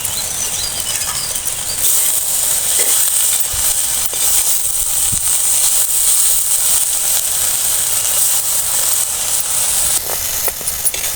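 Tamarind chutney ingredients sauté in a pan with a loud, continuous, close hiss and sizzle that holds steady for the whole stretch, with a few faint clicks and no talking.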